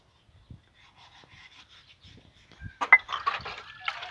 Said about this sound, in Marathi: कशी घासती पिलू बघा भांडी.